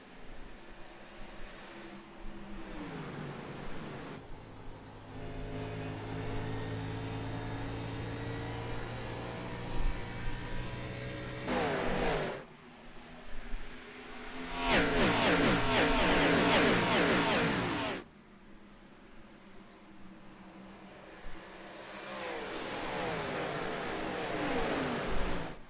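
Xfinity Series race cars leave the green flag at Nashville Superspeedway, a broad engine roar that rises and falls in waves as the field passes, with a loud close surge near the middle and a distant rumble between passes.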